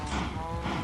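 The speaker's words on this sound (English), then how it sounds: "And lovely cow farm now, Andy." Cattle lowing on a farm in a video game, a steady mooing drone that fills the short moment over a busy, dense game soundscape, with no talk.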